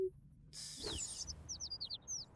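Birds in the video game Little Kitty, Big City chirp in short, bright repeated calls. A rising whoosh comes first, then a quick run of tweets close together, with no talk over them.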